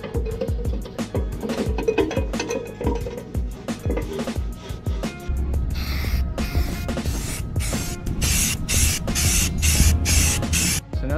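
Rust reforming compound paint sprays onto a truck from an aerosol can in a run of short hissing bursts, close and fairly loud, with rapid repeated spurts toward the end.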